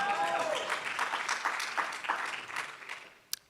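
Applause from an audience at a foundation talk, a brisk round of clapping that starts full and gradually fades, ending in a single sharp tap near the close.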